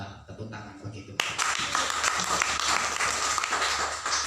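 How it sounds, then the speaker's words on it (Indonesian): A church congregation bursts into sustained applause at a Sunday worship service. The clapping starts suddenly and continues steadily to the end, after a brief stretch of quieter room sound. "Tepuk tangan bagi Tuhan."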